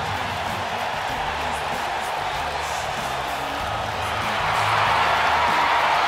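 A sold-out wrestling arena crowd roars in WWE 2K19 with a continuous wash of cheering that swells louder toward the end, under faint commentary.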